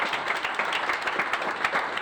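A crowd claps steadily for the junior county teams West Yorkshire and Lancashire after the final, a dense, continuous round of applause with no talking over it.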